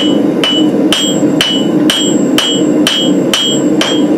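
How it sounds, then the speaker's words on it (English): A peening hammer strikes a forged tomahawk eye to stretch its metal, nine sharp ringing blows in a steady rhythm about half a second apart, loud and close with no talking. "I'm going to use the peening hammer this way and this way to stretch the langlets of the eye"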